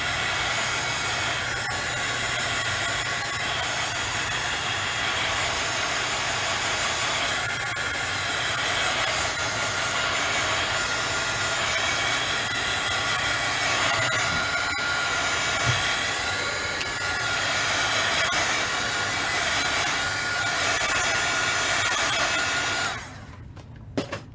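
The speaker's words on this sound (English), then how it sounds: "I'm going to give this a quick shot with the heat tool just to dry it faster" Handheld heat tool blowing a steady, loud hiss and whir while drying alcohol ink on paper, running continuously before cutting off near the end.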